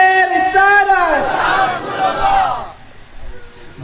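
At a religious gathering, a lone voice calls out a slogan and a crowd answers with a loud, blended chant that swells for about a second before fading away.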